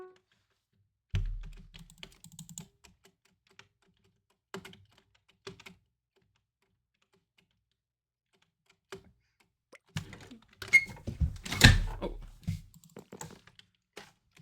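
Computer keyboard typing on a keyboard tray under a desk comes in scattered bursts of clicks and taps, quiet at first and growing denser and louder near the end, with soft thumps between.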